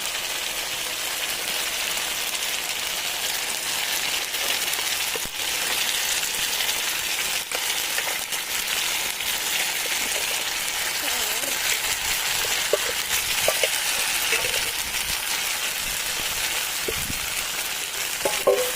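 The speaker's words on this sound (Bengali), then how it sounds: "ভালো করে কষাবো এখন" Chicken fries in a pan of cooked-down spiced masala, giving a loud, continuous sizzle that stays steady throughout, with occasional stirring clatter.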